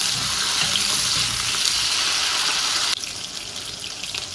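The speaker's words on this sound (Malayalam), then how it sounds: "അപ്പോൾ ഈ നല്ലെണ്ണയിൽ നന്നായിട്ട് ഈ മുളക് വഴണ്ട് വരട്ടെ കേട്ടോ." Chillies frying in sesame oil for an Onam pachadi, a dense steady crackling sizzle close up, dropping slightly in level partway through but continuing without pause.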